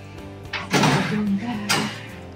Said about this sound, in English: Aren't those the creepiest doors ever?